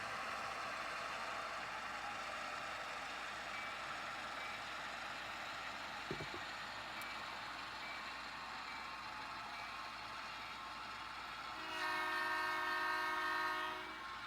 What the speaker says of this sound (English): train passing by Argo Yard in South Seattle, approaching the grade crossing at Royal Brome